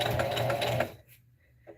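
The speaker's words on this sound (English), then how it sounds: "I'm going to sew the two sides." A sewing machine stitches the sides of a tote bag made from Dollar Tree materials, running in a steady close buzz for about a second before stopping into near silence.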